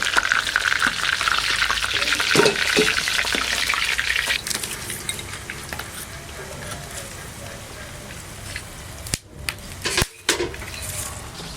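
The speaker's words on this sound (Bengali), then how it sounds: "হালকা হালকা করে লাল লাল করে ভেজে নেছি" A steady, close crackling sizzle of catla fish frying in hot oil, with occasional clinks and stirring noises, then a few short breaks near the end.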